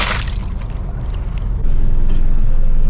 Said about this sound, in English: got the engine going